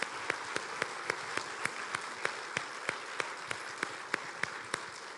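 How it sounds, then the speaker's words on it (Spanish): A church congregation claps for the Lord after a sermon by Pastor David Villatoro, steady crowd applause with sharp individual claps standing out at a regular pace, fairly quiet and distant, no voices over it. "le damos un fuerte aplauso al Señor"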